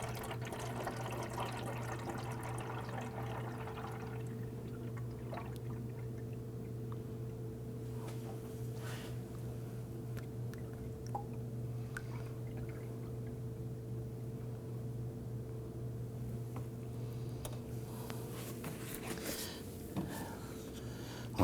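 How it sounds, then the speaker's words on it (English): Coolant is poured through a clean funnel into the reservoir tank of a 2008-2011 Ford Focus, a faint liquid trickle heard mostly in the first few seconds before a quiet, steady low hum takes over. "Use a clean funnel. And then use the appropriate coolant to fill up that tank."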